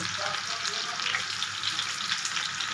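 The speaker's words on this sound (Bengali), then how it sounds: "ওদিকে চিকেনটা ভাজা হচ্ছে" Chicken pieces frying in hot oil, a steady close hiss and crackle running through the whole moment, with faint watery clinks underneath and no talking.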